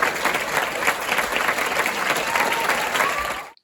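A Paris theatre audience at the Théâtre Antoine applauds the cast of En thérapie at the curtain call, loud dense clapping from a full house that carries on steadily then cuts off abruptly.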